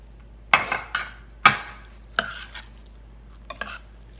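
A spoon stirs a thick vegan casserole mixture of cauliflower and noodles in a pot, with several close, distinct scraping and clinking strokes separated by pauses.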